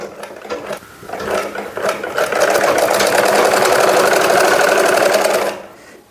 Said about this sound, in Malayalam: നമുക്ക് ഈ ഇലാസ്റ്റിക് ഒന്ന് വലിച്ച് പിടിച്ച് തയ്ച്ചെടുക്കാം